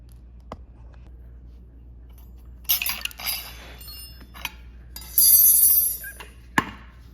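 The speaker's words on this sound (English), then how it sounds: "so now we're going to take the rest of these rotor bolts out" Brake rotor bolts are removed from a motorcycle's front wheel with the tire off, making two short bursts of sharp metallic clinking and rattling in an otherwise quiet space.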